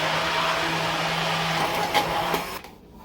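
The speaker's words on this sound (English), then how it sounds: "we're just going to add a little bit of that cream back into it that we strained from the cauliflower and blend" Cauliflower and cream whir in a blender with a steady, loud motor drone that shifts slightly in pitch before cutting off near the end.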